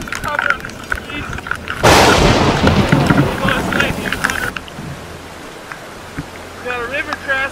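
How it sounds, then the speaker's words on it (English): Heavy thunder booms in a mountain storm on the Pacific Crest Trail in the Sierras, a sudden loud crash that rumbles on for a few seconds over rain and wind, with a voice speaking before and after. "Thunder's getting real loud."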